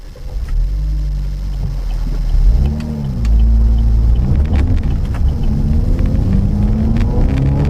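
A 2015 Opel Astra OPC sports car accelerates on a test drive, its engine note rising in repeated pulls through the gears with a loud, close, rumbling drone from inside the car.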